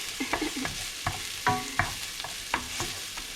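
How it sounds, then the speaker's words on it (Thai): Garlic and onion stir-fried in a pan as the base for a cod gratin: a spatula clacks and scrapes in irregular strokes over a steady sizzle of frying, close up with no voices. "ผัดกระเทียมกับหัวหอม"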